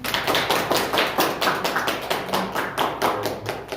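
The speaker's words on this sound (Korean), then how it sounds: "우리 박수 한번 쳐드립니다" Congregation claps together in a church during a Wednesday prayer service, a steady run of fairly close hand claps with a slightly rhythmic, pulsing quality and no talking over it.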